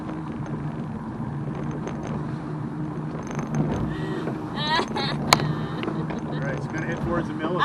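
A motorboat engine drones steadily on choppy water with wind buffeting and splashing, while excited voices talk and shout over it.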